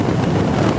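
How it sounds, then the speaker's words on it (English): Steady roaring wind buffeting a motorcycle helmet at 120 km/h without a Windjammer, a loud, constant broadband rush with no breaks and no voices. "So this is the sound of it without the Windjammer"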